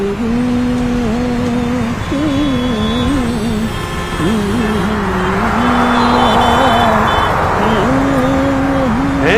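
Traffic in a street scene from the film Tamasha: a busy wash of vehicle engines with a steady wavering horn-like tone and passing motors, loud and close throughout.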